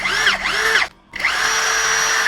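A Xenon X-CDID707N brushless cordless impact drill bores into old wood, its motor whining up in two short runs, then stopping briefly before a longer steady run. Nobody talks.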